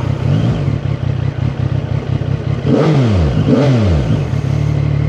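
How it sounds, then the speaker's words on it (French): A CF-Moto 675 SR-R sport motorcycle engine fires up and idles with a rough, throbbing rumble, then two sharp revs rise and fall close by before settling back to idle. "le démarrage de cette moto, écoutez ça"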